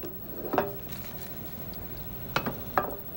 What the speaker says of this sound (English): Let me just stir this a little bit.